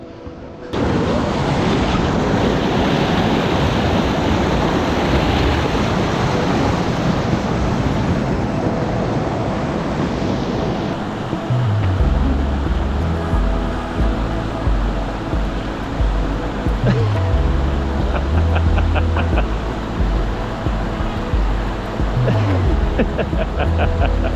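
Pack rafts passing through the final rapids of a wild Australian river, with a constant loud rush of churning water and wind buffeting the microphone, plus rhythmic low thumps in the second half.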